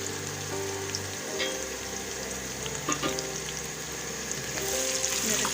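Finely chopped garlic and ginger sizzle steadily in hot frying oil, a close, continuous crackling hiss with scattered pops throughout, heard alone.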